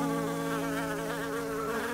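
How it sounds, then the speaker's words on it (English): A bee buzzes steadily in the video game Snufkin: Melody of Moominvalley, a continuous droning hum that stays loud and close throughout, with no voices. "Oh, now I have a bee with me."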